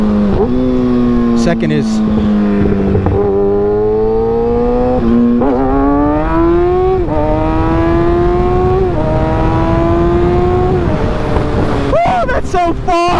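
Motorcycle engine revving hard in second gear through a power wheelie, a strong rising whine with harmonics that climbs in steps between shifts, loud and close, with a rider talking over it.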